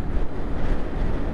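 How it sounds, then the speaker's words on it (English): Strong wind roars and buffets steadily across the microphone while riding a 2022 Lifan KPR 200 motorcycle, a dense, continuous low rumble with no talk. "it is super windy"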